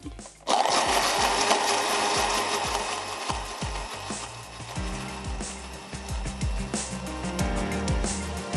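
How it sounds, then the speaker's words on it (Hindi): A kitchen blender whirs steadily as it purées yakhni, a soup stock, running loud and continuous after a sharp start with a busy mechanical texture and no talking. "यखनी को भी ब्लेंड कर लेते हैं"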